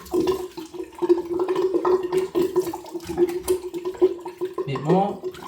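Water gurgles steadily down a bathroom sink drain as a face is rinsed after a wet shave with a Parker semi-slant razor, a close, continuous bubbling churn that ends in a brief louder slosh.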